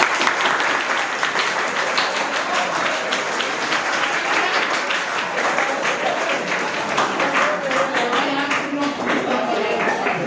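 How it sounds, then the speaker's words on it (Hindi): Sustained applause from a room of students clapping for their teacher, dense and steady for several seconds, with some voices mixed in. "सर के लिए एक बार जोरदार ताली बजा दीजिए"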